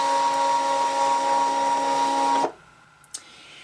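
A Brother Scan-N-Cut machine scanning quilt fabric gives a steady, close whirring mechanical hum for about two and a half seconds, then stops abruptly, leaving near silence with a couple of faint clicks.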